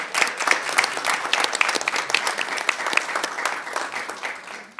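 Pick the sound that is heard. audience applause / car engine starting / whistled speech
audience applause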